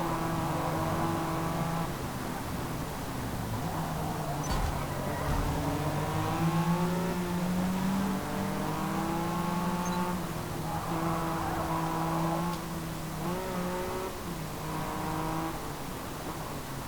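Sustained race car engine drone from the Forza Motorsport racing game, steady and loud with rising and falling revs through gear shifts, no talk over it.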